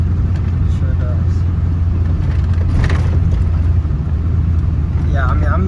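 A 1997 Ford truck with a 7.3 Powerstroke diesel driving on an improved road, a steady low engine and road rumble heard from inside the cab under people talking.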